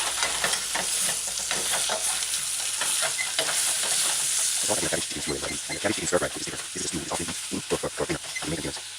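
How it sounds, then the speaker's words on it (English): Chopped tomato is stirred into chicken and cabbage stew in a hot pan, a continuous sizzle that turns into busy, rhythmic spoon scraping and stirring noise in the second half. "stir in and then add your chopped tomato"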